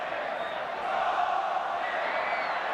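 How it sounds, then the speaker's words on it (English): A large crowd at a 1982 State of Origin rugby league match between Queensland and New South Wales chants together in a broad, distant roar, with a commentator talking over it. "We've got the New South Wales crowd doing the Queensland chant."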